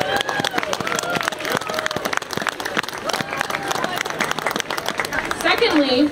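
An outdoor crowd claps for a long stretch at the holiday lights event in Central Park, Fairfield, Iowa, a dense patter of hands with voices talking over it.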